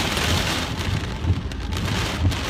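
Hail pelts down in a late-May storm in the Tarn area of Languedoc, driven by strong gusts of wind. A dense, loud, continuous patter sits over a rumbling wind roar, with no voices.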